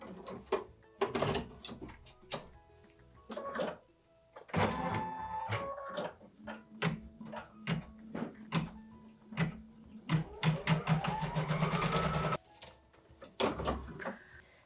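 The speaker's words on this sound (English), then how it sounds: "So for machine step 1, we're going to stitch the placement line for the shape form." A sewing machine stitches a placement line in light-coloured thread for a shape form on a small Christmas quilted piece. It runs in a steady whirring burst near the end, among scattered handling clicks and thumps.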